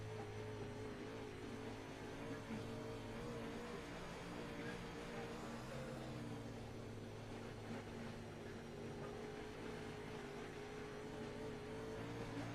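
A dirt modified race car engine held under throttle on a dirt track, a steady droning roar with a constant low hum and no sharp peaks, running throughout.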